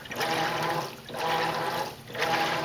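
Water sloshes and swishes in waves inside a Maytag Centennial HE top-load washing machine (model MVWC415) as clothes wash in low water, with three surging passes rising and falling steadily and no voices.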